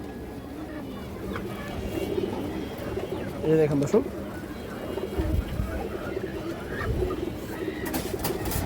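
Large, fresh pigeons of an old red bloodline coo in soft repeated throaty bursts close by, while someone talks over them throughout.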